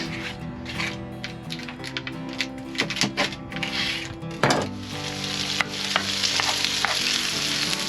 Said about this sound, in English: We're having pierogies and sausages with grilled onions